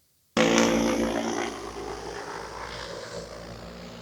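An agricultural spray drone starts up abruptly and flies close by, its loud steady rotor drone holding a buzzing, propeller-like tone that eases slightly in level over a few seconds.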